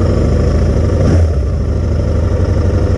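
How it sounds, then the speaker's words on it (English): A Royal Enfield Interceptor 650 parallel-twin with a 270-degree crank burbles loudly and close through its exhaust pipes, a steady throaty rumble with a brief rev swell around the middle. "The twin with those pipes on it at a 270 degree, it's a beautiful burble."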